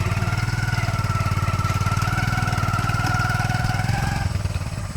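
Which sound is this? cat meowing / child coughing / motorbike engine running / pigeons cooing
motorbike engine running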